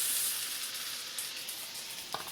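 Pieces of tofu skin fry in a pan with a soft, steady sizzle and hiss, faint and close, joined near the end by a brief clink.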